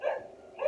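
Two quick yappy barks from small dogs, sharp and fairly close, separated by a brief gap.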